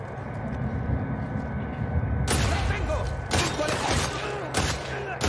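Gunfire rings out in The Last of Us Part II over a low, rumbling game backdrop: three sharp, loud bursts of shots spaced about a second apart.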